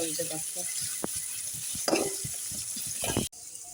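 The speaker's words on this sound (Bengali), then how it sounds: "তেলটা গরম হয়ে গেছে এখন পেঁয়াজটা দিয়ে দিব" Onions sizzle in hot oil with a steady crackling hiss, broken by a few scraping stirs and a sharp clatter near the end.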